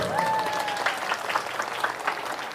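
Applause for Lampung at a religious gathering, a short burst of dense clapping that begins at full strength and thins slightly toward the end, with a faint sustained tone early on.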